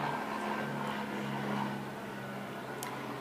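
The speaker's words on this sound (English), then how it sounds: "I'm sorry for the helicopter." A helicopter passes overhead, heard as a faint, steady droning rumble with a low hum that fades slightly over three seconds, with no talking over it.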